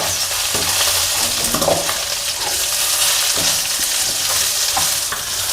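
Lentils, coriander seeds and cumin dry-roasting in a pan give a steady, close, fairly loud sizzling crackle, with light stirring scrapes scattered through it.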